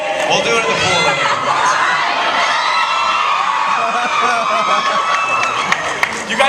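A Comic-Con panel audience for Teen Wolf cheers, whoops and shouts loudly and continuously, a dense roar of many voices filling the hall with high excited screams on top.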